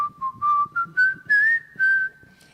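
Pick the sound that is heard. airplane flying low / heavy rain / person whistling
person whistling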